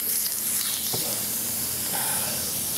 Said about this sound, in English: We'll grab my hose. Let's give them a rinse.